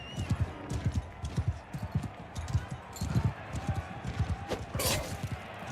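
Horse hooves clip-clopping in a Warhammer video game featuring Bretonnian knights, a steady rhythmic trot running throughout with speech over it.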